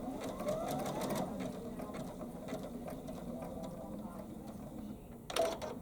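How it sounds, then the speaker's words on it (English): An embroidery sewing machine stitches a button in place, a quiet rapid ticking and mechanical whir that runs steadily for several seconds, ending with a short sharper clatter near the end. "I can just hit the start button, and it's going to sew that in place just like that"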